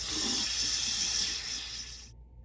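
A hand is rinsed under a running tap after shaving cream, giving a steady loud hiss of flowing water that cuts off abruptly near the end.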